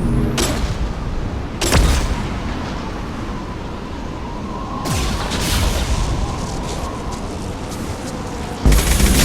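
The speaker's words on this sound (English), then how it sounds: "Watch out, flashbang!" A flashbang grenade goes off in Mass Effect 2 amid a firefight, with several sharp loud bursts and blasts separated by stretches of rumbling combat noise, ending in another hard crack.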